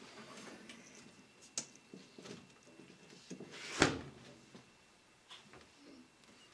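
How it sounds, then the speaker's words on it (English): A waterjet cutter's door thuds shut once in a quiet workshop, a single solid close midway through, preceded by a few faint clicks and knocks. "Close the door."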